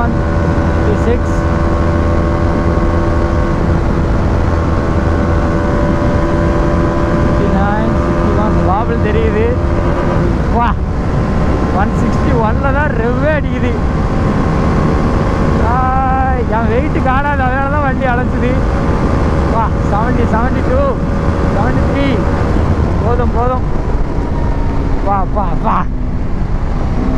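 A Bajaj Dominar 400 motorcycle ridden at top speed in fifth gear, a steady loud engine drone buried in heavy wind rush, with a voice talking over it at times.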